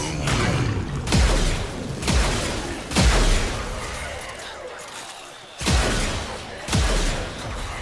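Repeated heavy blasts from the Tenet Arcoplasma weapon in Warframe, about six booming shots with whooshing tails at uneven intervals, loud and close.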